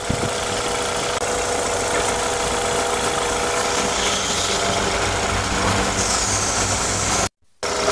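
A BMW 520i with the N20 petrol engine runs steadily after a top overhaul, giving a constant, close mechanical hum and ticking that continues unbroken until a brief cut near the end.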